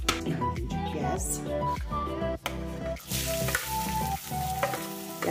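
Chopped onion sizzles in hot olive oil in a pan, a loud, close, continuous frying crackle with stirring clatter and scrapes throughout, no voices heard.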